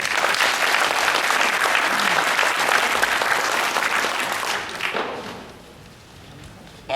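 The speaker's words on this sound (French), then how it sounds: "qu'on applaudit bien fort" Audience applause at an evening political talk in France, loud sustained clapping for about five seconds that quickly fades to near silence.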